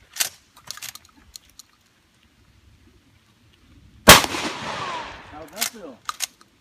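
A shotgun blast cracks out loud and close after a quiet pause, its sharp report trailing into a ringing echo, with a few brief clicks and handling noises before and after.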